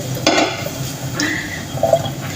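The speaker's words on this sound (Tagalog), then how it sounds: "Dami kong hugas yan." Dishes, pots and pans clatter during washing, with a few close clinks and knocks of kitchenware over a running background hiss.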